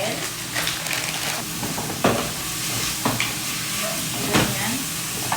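Chicken frying in oil with pepper and bay leaves, a loud continuous sizzle broken by several sharp scraping stirs and spatters, heard up close without speech.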